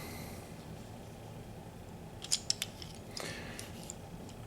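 A plastic transforming robot toy's hands fold inward with a few small, sharp clicks and snaps close by, clustered in a brief burst over a low steady room hiss.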